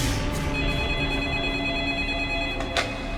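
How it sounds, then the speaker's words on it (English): A telephone rings with a steady electronic ring tone that sounds continuously and clearly, with no one talking. "Palmer then gets a phone call."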